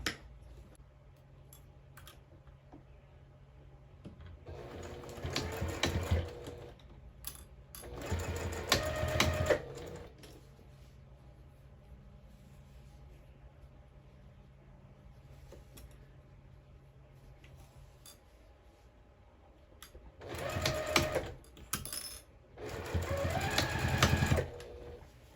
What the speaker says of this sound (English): We're just gonna go ahead and sew the other 3 sides just exactly like that.